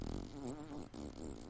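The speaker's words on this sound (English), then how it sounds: "There's a sound effect called Oopsie Daisy Fart." A comic fart sound effect named Oopsie Daisy Fart, a short wobbling, pitch-bending blurt that repeats once after a brief gap, close and clear with no talk.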